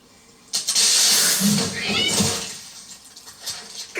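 A cat hisses sharply in a TV show scene, a harsh close burst with a yowling cry, while a viewer's voice reacts over it.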